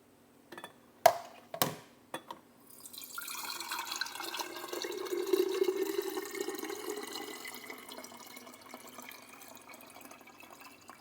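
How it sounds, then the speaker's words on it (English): Buttermilk is strained off a batch of homemade butter, starting with a few sharp clunks and then turning into a steady soft pour of liquid that trickles away, close by and fairly quiet, with no talking. "I'm going to go ahead and strain off the buttermilk."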